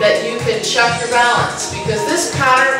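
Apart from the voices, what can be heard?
No everyday noise stands out behind the speech.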